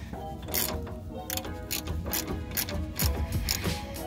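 A ratchet wrench with a deep socket tightens a long bolt on the front end of a 1998 Jeep Grand Cherokee, giving close, loud, repeated bursts of clicking ratchet strokes.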